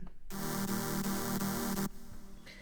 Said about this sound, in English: then you get that big blaring downsampled sound.